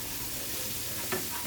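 Garlic sautéing in a pan for Hainanese chicken rice, a faint steady sizzle with one brief stir or scrape near the end, quiet and close.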